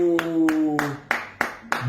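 Six sharp, loud claps ring out at a steady pace, each a crisp hit, with a voice talking under them.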